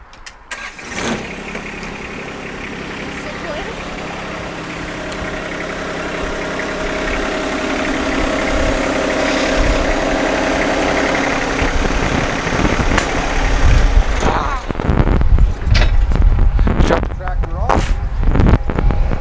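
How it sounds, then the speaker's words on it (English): A John Deere 1025R compact tractor engine rumbles steadily at idle, then revs harder and louder toward the end as it backs up, close and continuous. "So I'm going to back the tractor up."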